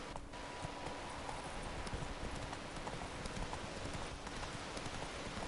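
The horse Roach trotting in The Witcher 3, rhythmic clip-clop of hooves repeating steadily and close over a faint outdoor ambience.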